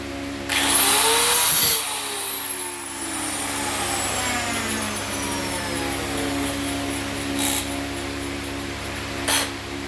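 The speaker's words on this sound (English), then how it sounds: "bearing's starting to go on this grinder. It's quite an old grinder." An old angle grinder with a failing bearing cuts through a welded-on part, spinning up loudly then whining and droning steadily with a descending pitch, close and continuous.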